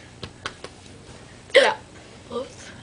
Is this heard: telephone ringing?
no